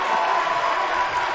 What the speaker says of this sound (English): And listen to the crowd respond.